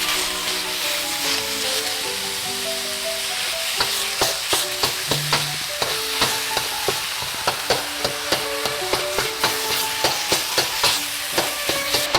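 Ground meat for cabbage roll filling frying in a pan, a steady sizzle with regular scraping stirs growing denser through the second half, under a tonal musical backdrop.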